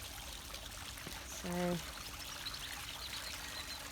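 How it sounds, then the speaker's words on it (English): A garden water feature trickles into a fish pond outdoors, a steady soft splash and dribble heard close by, with a brief tonal sound and a single spoken word over it. "Oh, water feature, yeah."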